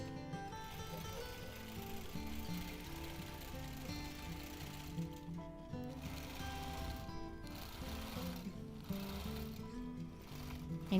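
A sewing machine stitches continuously during free-motion quilting of a paisley pattern, with the fabric pulled under the needle at a quicker pace. The mechanical whirring is fairly steady with slight rhythmic variation and no talking.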